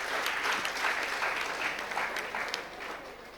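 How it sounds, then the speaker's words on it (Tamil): Sustained audience applause at a comedy debate show, a dense continuous patter of clapping with scattered sharper claps, fairly faint and even. "பெரிய கரகோஷம்."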